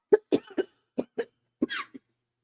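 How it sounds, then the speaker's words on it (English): A coughing fit: a quick burst of several harsh, close coughs in an uneven rhythm, ending with a short breathy rasp. "Not a coughing fit."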